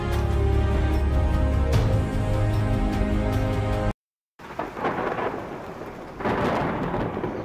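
Rain and thunder in a dinosaur video game: a heavy, steady downpour under a deep, rolling rumble of thunder, then a short silent gap before hissing rain resumes with another low thunder swell.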